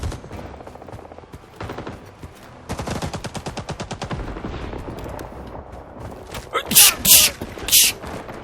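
Gunfire in the Vietnam-war shooter Rising Storm 2: Vietnam, with a rapid automatic burst early on and then a few loud, heavy single shots near the end, all close and punchy.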